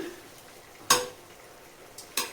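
Biryani masala paste frying in a pan, a faint continuous sizzle broken by two sharp scraping stirs.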